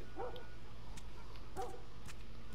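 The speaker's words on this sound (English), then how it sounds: "Shut up! Damn dog." A dog in the game The Last of Us Remastered gives two short, fairly distant barks about a second apart over a steady low background hum, with no speech.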